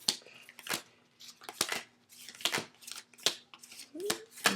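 Pokemon trading cards dealt out one by one, a series of sharp papery snaps and slides in an irregular rhythm, close and fairly quiet, with a brief voice near the end.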